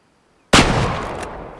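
A single loud .338 Lapua rifle shot in the hunting game Way of the Hunter cracks after a moment of silence, then rolls off in a long, fading echo.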